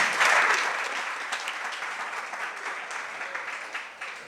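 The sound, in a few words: audience applause at a Jain religious gathering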